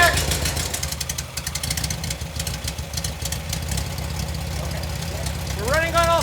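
A classic VW Beetle's air-cooled engine idles close by on all four cylinders, a low, uneven rumble with knocking pulses, ending with a brief rising whine.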